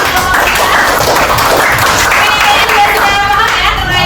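An audience in a classroom presentation setting applauds for a student, producing dense, steady clapping from many hands that fills the whole moment without a break.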